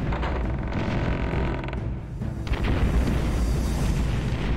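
Explosions in the dungeon video game Deathtrap Dungeon boom one after another in a dense, continuous roar of blasts and rumbling debris, loud throughout.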